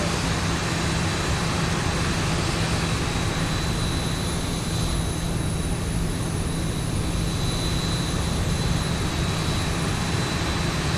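An aircraft engine holds a loud, steady roar with a constant whine while the plane is positioned at a gate. It runs without a break and nobody speaks over it.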